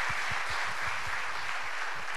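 Audience applause welcoming a speaker at a Thai economics and stock market seminar, a dense hiss of clapping hands, steady and moderate, with a few low thumps beneath.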